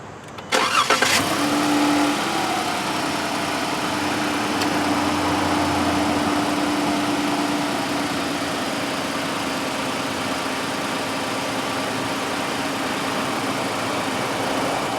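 A 2016 Dodge Charger SXT V6 cranks and fires with a loud start burst, then settles into a steady, even idle that holds for the rest of the clip with no voices.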